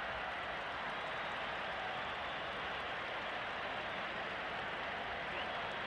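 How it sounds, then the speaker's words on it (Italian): A large crowd in a square applauds steadily from a distance as a balcony opens, a sustained wash of clapping that stays even throughout. "sotto sul sagrato la gente comincia a applaudire"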